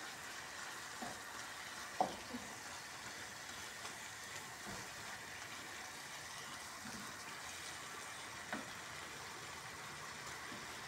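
Ground meat, mushrooms and tomato paste frying in oil for a lasagna filling, a faint steady sizzle with a few soft stirring knocks against the pan.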